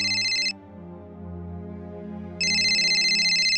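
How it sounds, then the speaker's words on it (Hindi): A telephone rings for an incoming call, two loud bursts of electronic ringing separated by a quieter pause of about two seconds, with a low background hum throughout. "लो आ गया किसी एक्टर का फोन पेमेंट के लिए।"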